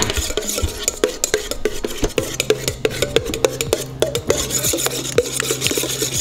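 A whisk scrapes rhythmically and continuously around a mixing bowl of hollandaise sauce set over a simmering pot, a close, steady rubbing and clinking with no voices.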